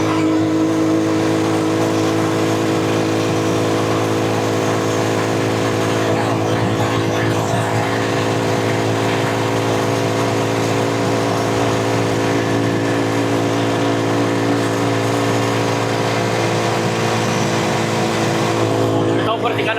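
A motorcycle trike carrying about 200 kilos of water containers accelerates hard while overtaking a tricycle, its engine droning loud and steady with rising revs and wind rush, and a voice talks over it.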